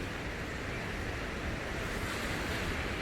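Sea waves wash steadily against the shore near a tent campsite in the Geiranger valley, a constant broad roar mixed with wind, no talk.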